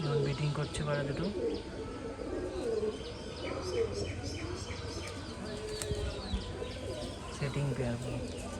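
Rajshahi pigeons, a mated pair, coo in a loft with steady low rolling calls, scattered chirps and brief wing flaps close by, while a person talks at times.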